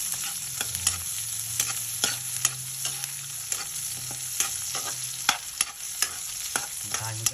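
Onion and garlic sautéing for adobo, a steady sizzle broken by repeated scrapes and clacks of a spatula stirring the pan, close and alone with no voices.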